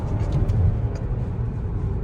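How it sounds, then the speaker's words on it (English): Cadillac XTS engine rumbling low and steady from inside the cabin after a couple of downshifts, a continuous drone with a slight surge early on and no talking. "Doing a couple of downshifts."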